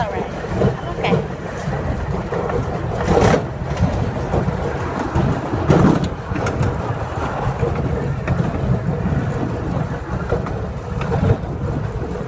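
Small kids' train ride at Griffith Park, its wheels clattering and rumbling steadily along the track throughout, with a child and adult chatting over the running noise.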